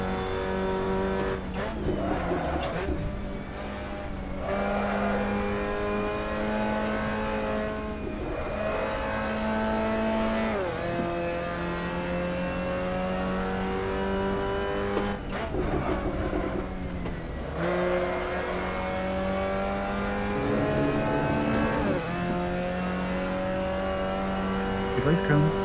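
Race cars in a sprint race at Spa in the video game Assetto Corsa, with engines droning and revving steadily, pitch climbing through gears and dropping at shifts, and people talking over the continuous motor noise.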